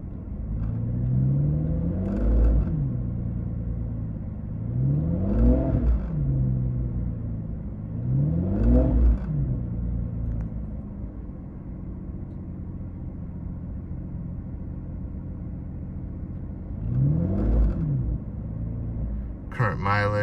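A 2011 Aston Martin Rapide engine idles with a low rumble, then blips up in several short revs, each rising and falling back, spaced over about twenty seconds, heard close with no speech.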